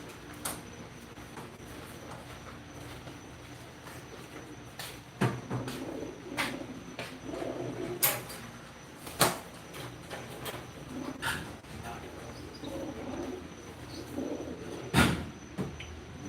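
Pigeons in a loft, soft intermittent cooing and bird calls with scattered sharper chirps and clicks, moderately quiet against a steady low background hum.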